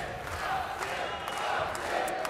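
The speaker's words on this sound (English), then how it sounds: "You listen to the crowd behind him." Crowd noise at a fight event with the hometown fighter in action, a steady roar of cheering and shouting throughout, dense and moderately loud with no single standout burst.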